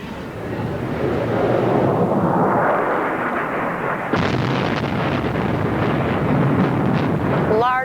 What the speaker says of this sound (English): Large explosions rocked Baghdad tonight, the latest air raid in the American-led bombing campaign against the Iraqi capital